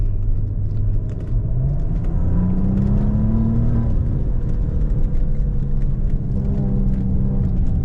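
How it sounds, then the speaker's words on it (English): A 2016 Maserati Ghibli S Q4 with a twin-turbo V6 revving up. The engine note climbs in pitch, holds, then drops back to a deep, loud, close idle rumble, with no voices over it. "You could hear the spooling of the turbos."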